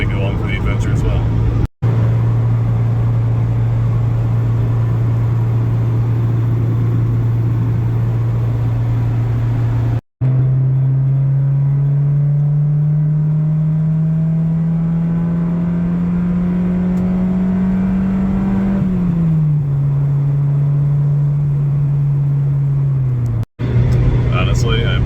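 A 1995 Honda Civic Del Sol Si drives steadily with a smooth engine drone and road hum, the pitch rising gently as it speeds up, then settling.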